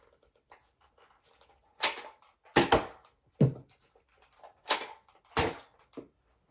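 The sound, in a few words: Nerf N-Strike Element EX-6 blaster firing darts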